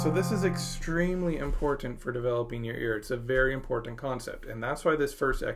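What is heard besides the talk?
None of the usual background noises is heard.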